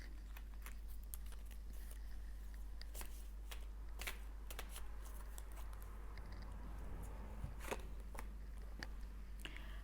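Tarot cards being shuffled by hand, a quiet run of soft riffling flicks and taps over a steady low hum, with no talking.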